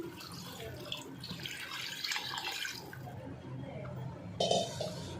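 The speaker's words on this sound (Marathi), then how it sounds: "मी आता हे दोन ग्लास पाणी टाकून घेते" Water from two glasses pours into a pot of mutton, giving a splashing, trickling stream with a louder gush near the end, close by in a home kitchen.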